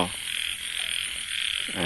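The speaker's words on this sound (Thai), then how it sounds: "เสียงที่ท่านได้ยินอยู่ในขณะนี้เป็นเสียงสด ๆกบร้องระงม" A chorus of frogs croaking continuously in a breeding pond in a garden at night, a loud, dense, pulsing mass of calls that fills the whole stretch without speech.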